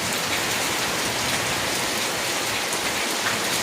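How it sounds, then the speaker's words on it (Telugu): Steady rain pours down outdoors, a dense, even hiss of drops on surfaces with no break or thunder. "నిజంగా వర్షం బాగా పడుతుంది ఇక్కడ"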